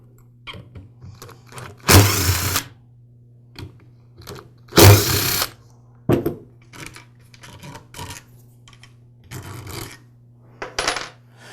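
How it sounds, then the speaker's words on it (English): Screws being removed from the motor housing of a DeWALT DW718 miter saw, heard as several short bursts of a driver whirring, the two longest near the start, along with scattered sharp metallic clicks and clatter close by. "We'll start by removing the 2 screws that secure the field to the housing."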